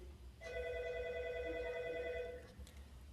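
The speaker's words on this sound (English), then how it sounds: "The phone's ringing there." A telephone rings with a steady electronic warble for about two seconds, moderately loud over a quiet background hum, then stops.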